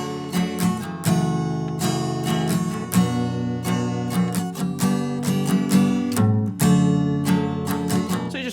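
An acoustic guitar strums a chord pattern with a down, down, up, down rhythm, moving from F to a G bass note and back to C. The strums are steady, close and bright, with no talking.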